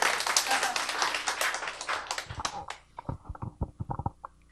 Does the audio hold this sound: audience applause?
yes